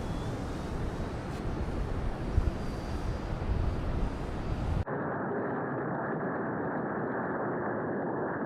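A radio-controlled Twin Timber model airplane passes low overhead in windy conditions, giving a steady, loud broadband rush that drops abruptly to a duller, narrower drone partway through, with wind buffeting the microphone.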